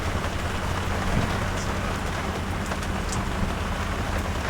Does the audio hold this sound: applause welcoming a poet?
no